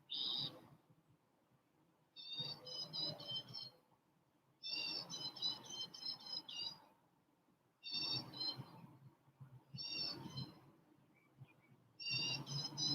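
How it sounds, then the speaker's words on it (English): Birds sing outdoors in repeated bursts of bright, high warbling phrases separated by short quiet gaps, fairly close and clear with no talking. "Listen to the nice birds that are outside here today."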